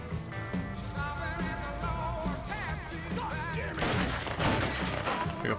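Gunfire rattles in the Mafia 3 video game, dense bursts and crackling shots layered over music and game effects, growing louder and more chaotic toward the end.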